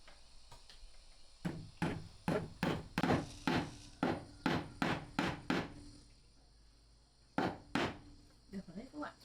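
A hammer drives a nail into a home wall to hang something, with a run of about a dozen sharp, evenly spaced strikes, a short pause, then a few more blows, close and loud.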